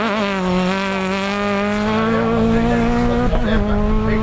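A rally car drives a special stage of the Dunes & Marais rally near Maubeuge, its engine a loud, sustained close whine with a slowly rising pitch and a brief dip near the end, heard without any talking.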